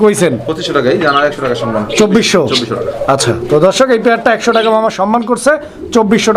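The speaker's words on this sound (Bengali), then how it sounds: "ডাকটা কিন্তু দেখাই দিছি" Fancy pigeons coo in loud, close, repeated rolling calls, with people talking over and between them throughout.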